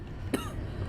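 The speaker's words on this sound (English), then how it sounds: "I'm so sorry I'm coughing" One short, sharp cough or throat-clear, close and fairly quiet, in an otherwise calm room.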